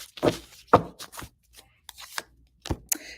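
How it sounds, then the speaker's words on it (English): A deck of oracle cards is shuffled in a few quick, close riffling bursts with short pauses between them, quiet and alone. "One deep shuffle."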